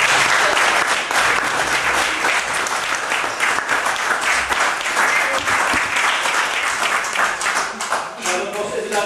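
A community audience at a local video club event gives sustained applause for the children, dense hand clapping close and loud throughout, with a voice speaking over it toward the end.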